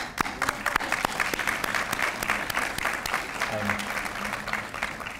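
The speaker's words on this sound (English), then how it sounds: "Let's give them all a round of applause." Audience at an international students' graduation reception applauding the graduates, a steady dense wash of clapping from a crowd filling the whole stretch at even loudness, with faint voices beneath.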